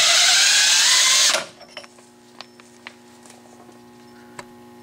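A power socket tool spins off a spindle nut on a Dana 44 axle with a loud, steady whine for over a second, then stops, followed by a few faint clinks and taps of metal parts.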